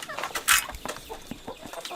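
Backyard hens and chickens cluck close by in short irregular bursts, with one louder squawk standing out among the softer murmuring calls.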